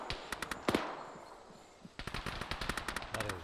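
Machine gun fire in a video game: rapid, sharp bursts of shots, an opening cluster, a brief lull, then a longer steady volley, fairly loud and close.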